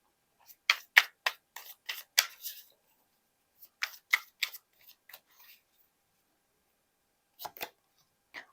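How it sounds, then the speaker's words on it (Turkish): A tarot deck is handled during a star-card reading, giving a run of quick crisp card flicks and snaps, then a second cluster and two final taps, all close and dry with no talking. "Hemen şu yıldız kartına bir kart alacağım."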